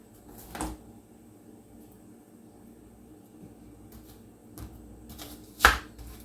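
A knife cutting a red onion on a board, with a few separate chops spaced seconds apart, close and fairly quiet against a low room hum.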